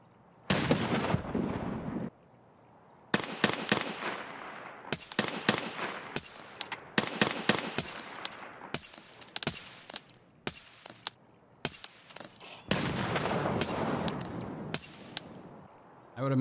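Rapid bursts of first-person shooter gunfire crackle in clusters with longer blasts between them, loud and close, with short pauses separating the volleys.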